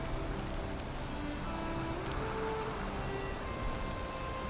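Steady rainfall in the survival video game Grounded, a continuous soft hiss of drops pattering on surfaces, holding an even level throughout with a faint low rumble beneath and no voices.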